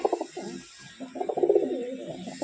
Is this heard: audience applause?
no